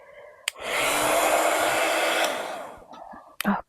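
A hair dryer blows steadily on paint drying on a gel print, a loud, continuous whoosh lasting about three seconds that starts abruptly after a click and tails off near the end.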